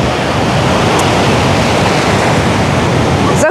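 Stormy sea surf crashing on a shallow beach at Anapa, a loud, continuous roar of breaking waves filling the whole stretch without a pause.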